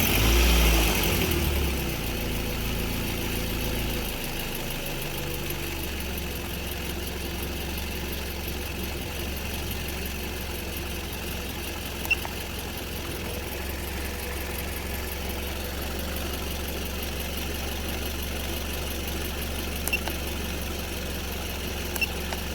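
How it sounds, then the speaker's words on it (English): A 2006 Scion tC engine cranks and catches in a short burst, then settles into a steady, even idle that holds close and constant to the end. "Start the engine."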